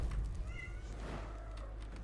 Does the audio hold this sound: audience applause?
no